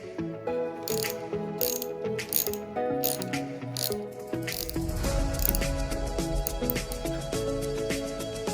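A ratchet wrench clicks in quick bursts while tightening the foot nuts, fitted with new crush washers, on a Fox suspension fork. The clicking is close and steady over a background of tonal music.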